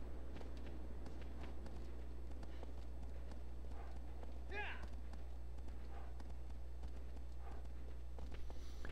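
Horse hooves clip-clop on the ground in the PS2 game Shadow of the Colossus, a steady run of soft repeated steps over a constant low game hum, with a brief whinny-like call midway.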